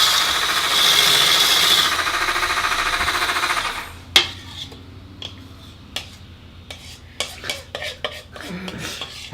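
A metal spatula scrapes cupcake batter around a mixing bowl: a dense, loud scraping wash for the first two seconds, then sparser scrapes and sharp metallic clinks against the bowl.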